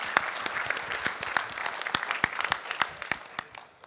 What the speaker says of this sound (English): So a round of applause again to this guy.